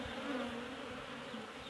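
Apis cerana drone bees buzz steadily at a hive, a dense continuous hum from many insects heard close up with no talk.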